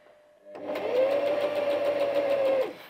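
Bernette 05 Academy sewing machine running a straight stitch on cotton, its motor whirring steadily with rapid needle clatter for about two seconds, close and alone, starting after a short quiet lead-in.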